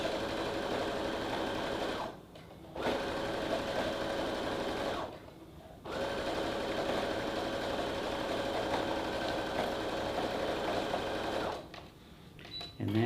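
Sewing machine stitching a set-in sleeve seam on a top, three bursts of steady close motor hum separated by short pauses, heard without speech.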